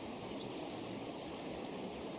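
A rushing stream flows in a steady, even wash of water noise on a country walk, moderately soft and constant without breaks.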